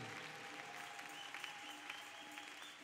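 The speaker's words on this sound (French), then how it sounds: "Donnez des acclamations à Jésus" A church congregation claps and cheers, a faint, steady wash of applause with a sustained tone running beneath it.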